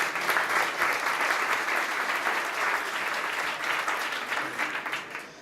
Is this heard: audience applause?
yes